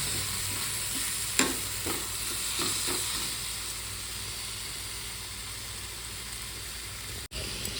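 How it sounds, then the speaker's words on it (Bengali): Dal with mango sizzles steadily in a pan while a spoon stirs and scrapes it, with a few sharp clinks early on and a brief thud near the end, close by and without talk. "ভালোভাবে কষিয়ে নিই, নাহলে লেগে যাচ্ছে নিচে।"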